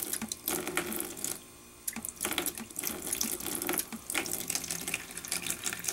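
Water runs hard and steadily from a beer faucet as the line is pumped and flushed clean, a close splashing rush with brief pauses and surges.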